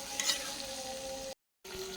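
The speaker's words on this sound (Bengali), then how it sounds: "এখন ভালো করে কষিয়ে তারপর ঝোলের পানিটা দিয়ে দিব।" Meat sautéed and stirred in a pan for a curry in a village kitchen, giving a steady close sizzle with stirring scrapes, broken by a brief silent gap near the end.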